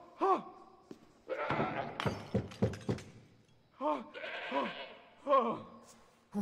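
A goat bleats in the video game Assassin's Creed Odyssey, several short wavering calls near the start, middle and end, with people talking and thuds between them.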